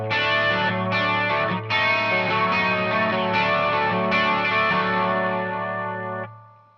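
An electric guitar run through chorus and distortion effects plays sustained, ringing pre-chorus chords from a song, loud and continuous with a couple of brief chord changes and a fading final chord.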